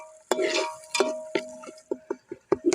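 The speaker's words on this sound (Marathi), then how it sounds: "टोमॅटो पण चांगल्या ता तेलात हिरगळेपर्यंत असं चांगला भाजून घ्यायचा एक जीव होईपर्यंत" Chopped tomato and onion roast in hot oil in a pan, with a steady close sizzle broken by a series of sharp scraping stirs of a spoon against the pan, no talking.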